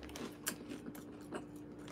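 Crunchy, hard gingerbread Christmas cookies being bitten and chewed up close, giving a few distinct crisp crunches amid steady soft mastication, with no talking.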